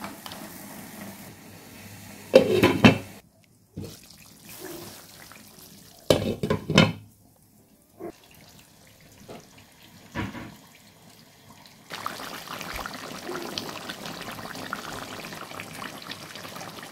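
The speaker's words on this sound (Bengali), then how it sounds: "তো আমি অন্য ডেগো ঢেলে নিলাম।" Meat curry being poured out of a too-small pot into another, larger cooking pot: a few short bursts of wet sloshing and metal clatter, separated by stretches of near quiet, heard up close.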